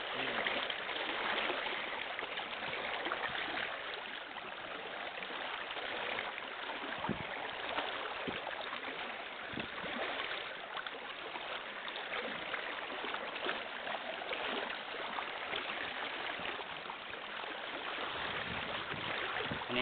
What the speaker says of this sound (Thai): น้ำเริ่มไหลแรงแล้วครับ